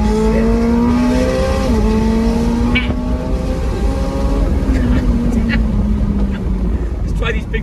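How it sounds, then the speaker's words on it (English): A 2024 McLaren 750S Spider accelerates hard in automatic track mode, its engine note climbing steadily through rising gears, loud and close from the cabin with constant road and wind roar. "I'm just going to accelerate in automatic in track mode"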